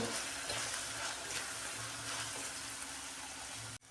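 Garam masala and red chilli powder for masala brinjal sauté in a pan, a steady close hissing sizzle with faint stirring that continues evenly and then stops abruptly near the end.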